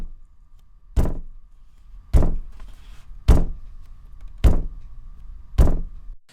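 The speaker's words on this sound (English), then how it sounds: "So that's just me literally pounding my fist on my desk" Five heavy fist thumps on a desk, spaced about a second apart, each a sharp low booming hit like a kick drum with a short decay, close and loud with near silence between.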